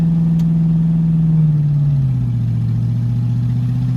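A car with a freshly changed transmission hums low and steady as it drives along the road. The engine tone drops in pitch about halfway through, as if it shifts gear, and it stays loud and close with no talking.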